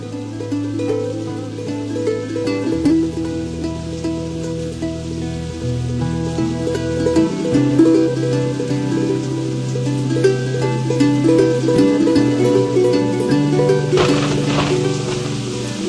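Rain falls steadily outdoors, a constant hiss of drops on surfaces that lasts the whole time beneath prominent music.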